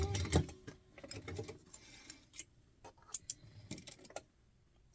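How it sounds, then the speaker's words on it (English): Home sewing machine top stitching folded fabric bag strap connectors for 1-inch hardware, with short bursts of rapid mechanical stitching separated by pauses and clicks, close and moderately loud. "now I'm just top stitching"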